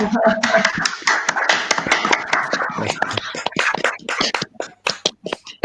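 Scattered clapping from a small group on an online talk with microphones unmuted, uneven and sparse, with a voice talking over the start before claps thin out to a few isolated ones.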